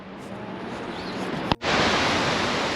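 Montmorency Falls roars as a steady, broad wash of falling water, close and loud, briefly cut by a sharp knock before the roar returns without pause.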